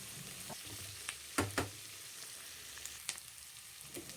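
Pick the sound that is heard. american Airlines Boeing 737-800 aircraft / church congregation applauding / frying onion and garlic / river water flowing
frying onion and garlic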